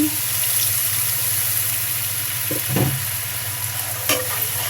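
Liquid is poured into pomfret fish curry with pumpkin bori frying in a pan, and a steady close sizzle runs throughout, broken by a few stirring scrapes and knocks.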